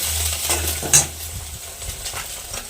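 Oil sizzling in a home cooking pan, a soft steady fry with scraping stir clatters and a brief sharp clink near the start, close by with no talk.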